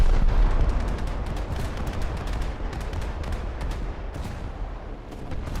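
Naval main battery guns of the cruiser Liverpool in War Thunder, a dense continuous barrage of loud booming shots overlapping one another with steady rumbling low end, no pauses, and no talking.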